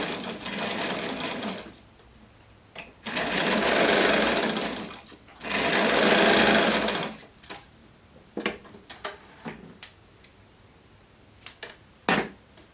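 A sewing machine stitches fabric for a simple blouse in three sustained whirring runs of a few seconds each, close by, followed by scattered clicks and light handling sounds.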